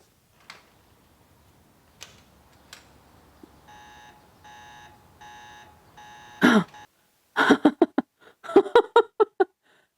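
An alarm sounds in an episode of the Chernobyl TV drama, giving soft electronic beeps in evenly spaced bursts, then sharp coughs and clattering knocks that follow one another.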